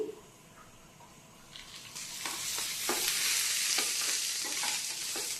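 Beans for a palya fry in freshly added oil. The pan is quiet at first, then breaks into a loud, close sizzle with repeated stirring scrapes that continue to the end.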